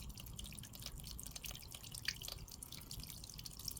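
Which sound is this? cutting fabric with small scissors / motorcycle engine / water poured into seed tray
water poured into seed tray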